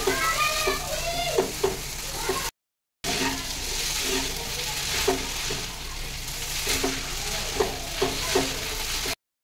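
Veg hakka noodles are tossed in a hot pan, giving a continuous sizzle with repeated scraping and clattering strokes of a utensil. There is one short break in the sound.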